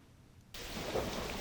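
A torrential rain downpour comes in abruptly after a short quiet moment and becomes a dense, steady wash of hissing rain that continues with no voices.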